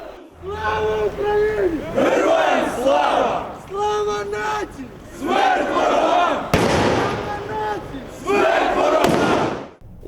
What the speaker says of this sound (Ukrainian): Учасники маршу використовували фаєри, палили димові шашки та кидали петарди.